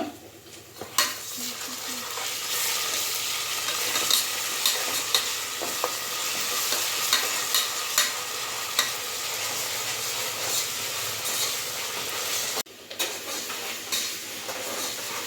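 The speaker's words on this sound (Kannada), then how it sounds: "ಎಣ್ಣೆನಲ್ಲಿ ಶುಂಠಿ ಬೆಳ್ಳುಳ್ಳಿ ಪೇಸ್ಟ್ ಚೆನ್ನಾಗಿ ಫ್ರೈ ಆದಮೇಲೆ" Ginger garlic paste fries in hot oil with a dense, steady sizzle, broken by sharp scrapes and clinks of a stirring spoon against the pan, then a brief cut before the sizzling resumes. No one speaks.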